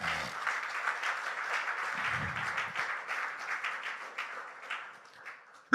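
A church congregation applauds and cheers after a sermon, a steady wash of clapping and voices lasting several seconds, gradually thinning out, with a sharp loud knock at the very end.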